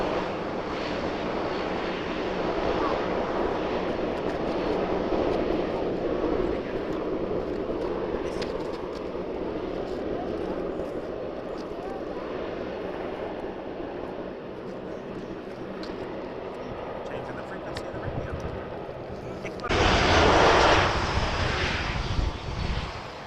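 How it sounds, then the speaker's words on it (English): Jet airliners arriving at Vancouver International Airport, a steady loud engine roar throughout, building to a louder, closer surge near the end as a plane passes. "there are more planes coming in"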